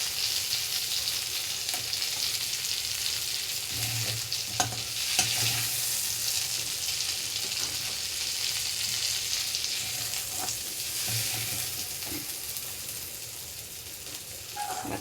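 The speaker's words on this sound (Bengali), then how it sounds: "বেশি ভাজলাম না চিংড়ি মাছ, অল্প ভাজলাম" Prawns fry lightly in a pan for a Bengali malai curry, a steady close sizzle running throughout with occasional soft stirring scrapes and clicks of the spatula.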